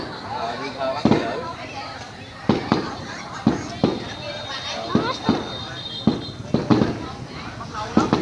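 Year-end fireworks burst in a rapid series of sharp, loud bangs at roughly regular intervals, with crackle between them and people talking throughout.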